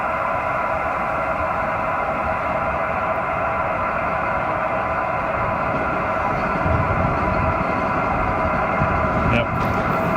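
A train passes close by with a steady, loud roar and rumble that holds throughout, heard next to a radio operator's portable setup.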